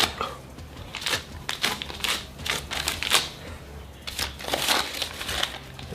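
Paper banknotes being peeled apart, giving a run of dry crinkling, rustling and crackling bursts at close range, irregular and uneven across the whole stretch, with no voices.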